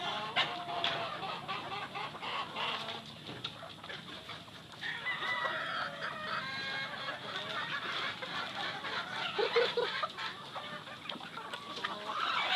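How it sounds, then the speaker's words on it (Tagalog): A flock of breeding hens clucking and squawking steadily in a poultry pen, with overlapping calls from several birds at close range and no talking. "Ito yung mga pang-breeding natin ng mga hen, mga inahin natin"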